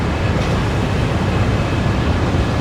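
Inka Madiun-built KRL commuter train at a transit stop, a steady dense rumbling rail noise with a constant broadband roar, loud and continuous.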